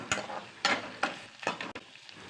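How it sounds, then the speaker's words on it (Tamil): Ginger, garlic and dried red chillies fry in oil for paneer butter masala, a soft sizzle broken by four or five rhythmic scraping stirs of a spoon against the pan. "இஞ்சி பூண்டு வதங்கின உடனே ஒரு 3 காஞ்ச மிளகாய் அதையும் போட்டு நல்லா வதக்கிக்கிடலாம்."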